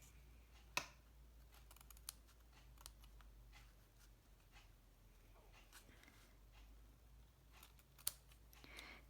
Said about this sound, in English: Right, scissors, where are they? Here they are.